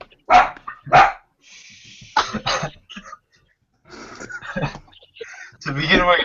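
A dog barks a few sharp times nearby, mixed with a cough and throat clearing, while people talk in the background.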